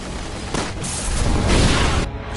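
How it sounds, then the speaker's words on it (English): A gas explosion in the video game Resident Evil 6 sets off a broad, rumbling burst of noise that swells and fades over a couple of seconds. "Someone shoot the gas! We can blow these things to Kingdom Come!"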